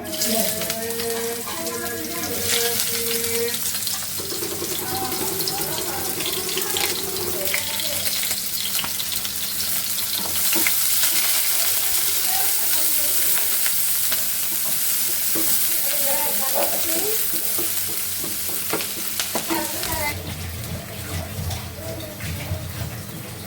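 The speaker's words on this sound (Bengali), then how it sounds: "তো আমি শাক ভাজি তেলে দেবো" Leafy greens fry in oil with onion and garlic, giving a steady broad sizzle throughout, with stirring scrapes and some running water from a tap mixed in nearby.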